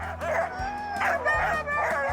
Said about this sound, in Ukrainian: коли вони гавкають, може здатися, ніби вони співають